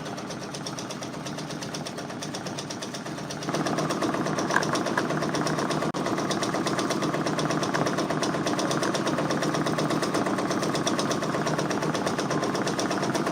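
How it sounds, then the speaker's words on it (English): An embroidery machine stitches out a Drake patch, a fast, even mechanical rattle that runs continuously and grows louder partway through, close up with no voices. "If you guys can hear that machine stitching, go ahead and give me a 1 in the chat."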